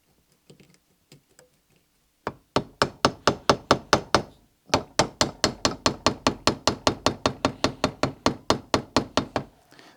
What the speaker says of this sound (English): These are the tiniest, tiny taps with a plastic or rubber hammer, just to slide it in there.